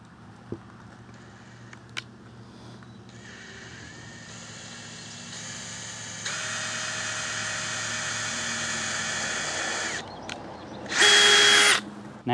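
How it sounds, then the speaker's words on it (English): A power drill whines steadily as it bores into material, the pitch rising under load, then stopping and ending with a short, louder high burst. "Let's drill another one."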